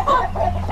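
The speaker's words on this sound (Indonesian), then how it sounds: "Oh, ayamnya banyak sekali ya, kandang-kandang ayam ya." Many chickens kept in coops at a rural plot, clucking in a short, loud burst of overlapping calls close by.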